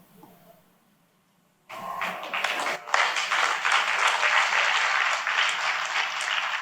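An audience at a spiritual teaching session bursts into sustained applause after a quiet moment, a loud, dense wash of many hands clapping that carries on steadily to the end.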